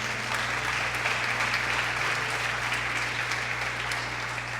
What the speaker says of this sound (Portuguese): Dá um aplauso a Ele por isso.